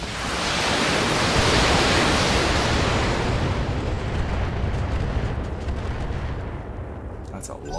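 A volley of LRM-15 long-range missiles fires in the BattleTech mech game, a loud sustained roaring rush of launches that swells early and slowly fades over several seconds, with faint talk near the end.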